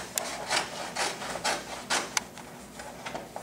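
Material being trimmed off a wall logo sign, heard as a close, steady series of rough rasping strokes about every half second, with no voices.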